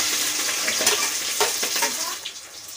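Onions frying with green chillies in hot oil in a home kitchen, giving a steady close sizzle with a few brief stirring clinks and scrapes.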